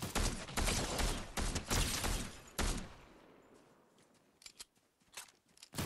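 Gunfire crackles in the video game Fortnite as an exchange of shots opens with loud, rapid bursts, then thins to scattered, fainter shots and distant pops.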